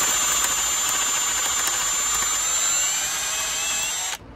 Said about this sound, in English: Let's see what we can do about drilling this SOB out.